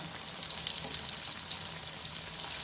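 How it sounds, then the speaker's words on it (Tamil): Bottle gourd lentil vada fry in hot oil with a dense, continuous close sizzle and crackle, alone, while the fritters are turned over. "இப்போ நம்ம அந்த வடையை வந்து பிரட்டி போடுறோம்"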